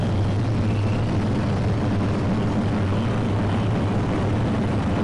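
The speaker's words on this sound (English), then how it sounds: "After nose will touch down, I use reverse thrust to around 80 knots." Airliner in a flight simulator game rolling out after nose touchdown with reverse thrust, a steady loud low engine roar and rumble holding constant throughout with no voices.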